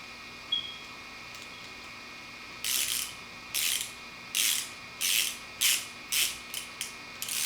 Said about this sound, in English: So now, one last wrenching through.